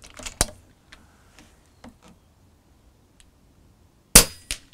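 An FX airgun fires over a radar chronograph, giving a sharp shot near the start and another crisp crack near the end, with small clicks and handling noises in between.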